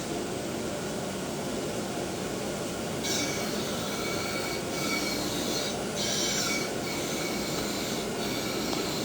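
An Okamoto machine table travels under throttle control, a steady mechanical hum and whir running throughout with brief bursts of higher hiss as the speed shifts.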